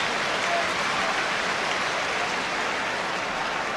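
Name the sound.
football crowd applause for Shilton's save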